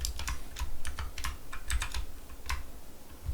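Computer keyboard keys clatter in quick, uneven bursts of taps and clicks while someone types code into an IDE, heard close and steady with no talking.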